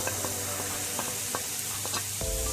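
Chopped onion sautéing in a hot pan, a steady broadband sizzle with intermittent stirring scrapes and clicks, fairly close and continuous, with no voices.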